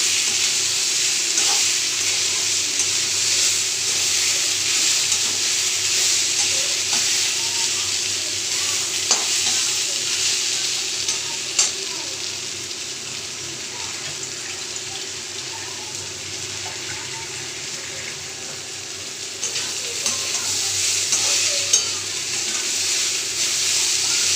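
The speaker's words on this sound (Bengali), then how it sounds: "অল্প করে জল দিয়ে আমি কষে নিচ্ছি, যাতে মশলার গ্যাসটা না ধরে" Spices for muri ghonto frying in a pan with a little added water, a steady loud sizzle with occasional soft stirring scrapes, continuous and without talk.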